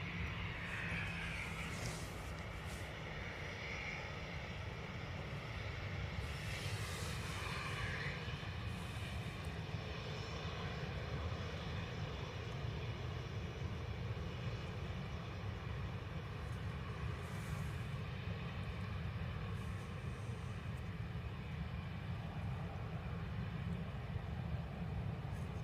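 A Ryanair jet bound for Milan powers up at Dublin Airport, a broad continuous engine roar heard from a distance, with a steady low rumble and a rising whine.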